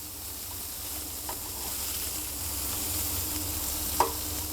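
Foie gras frying gently in a pan, a soft steady sizzle under low crackle, with a faint clink near the end and no talk.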